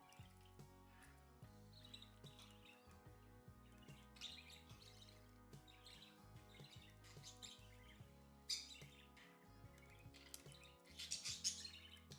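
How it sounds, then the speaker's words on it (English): A pet bird chirps and tweets faintly in the background of a room, with scattered short calls over a quiet bed of low music-like tones and a brief burst of louder squawking near the end. "That's my bird partying in the background."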